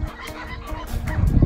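Young flamingo chicks calling loudly near water, a stream of honking, goose-like squawks close by that grow louder toward the end.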